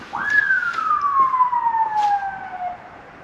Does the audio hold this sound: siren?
yes